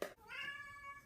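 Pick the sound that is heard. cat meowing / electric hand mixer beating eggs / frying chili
cat meowing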